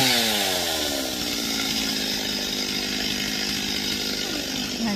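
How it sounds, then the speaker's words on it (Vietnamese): A chainsaw cuts through a large rain tree branch, its engine droning steadily and loudly at high revs for the whole stretch, close by and with no talk. "Chắc ba cũng hạ cái máy cưa tới đó để cưa bỏ cái nhánh nó xuống quá."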